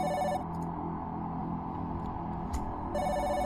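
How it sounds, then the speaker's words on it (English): A telephone rings in the video game The Doll, with repeated electronic trilling bursts at the start and again near the end under a steady background drone. "Ring, ring. Pick up the phone."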